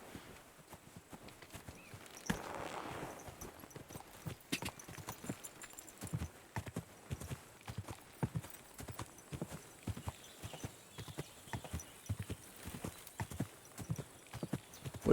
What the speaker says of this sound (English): I think we can definitely now use the horse here for that.